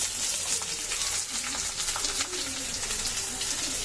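Thinly sliced onions with green chillies frying in a pan, a steady close hiss of sizzling oil that runs unbroken throughout, with faint stirring and no voices.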